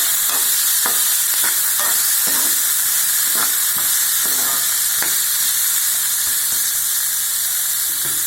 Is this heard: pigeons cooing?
no